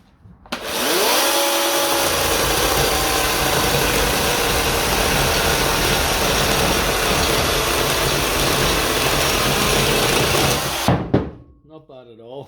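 A Parkside 20V cordless chainsaw (PKSA20-LIC3) whines up to speed and cuts a three-inch piece of wood in one loud, steady, close run of about ten seconds, then spins down and stops.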